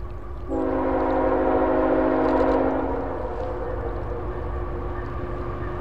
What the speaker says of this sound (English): there's a train about to come by